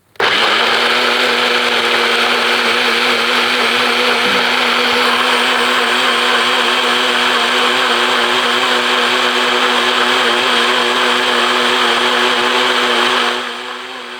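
A high-speed blender runs continuously while blending a vegan sauce, a loud, close, steady motor whine that starts abruptly, holds for several seconds and then drops in intensity near the end.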